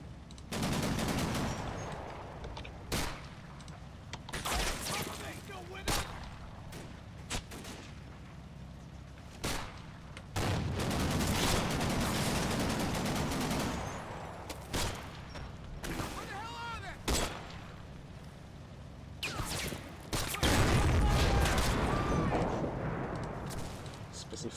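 Rapid bursts of gunfire and heavy booms from a war video game, machine-gun rattles and single shots repeating throughout with a person talking over the battle.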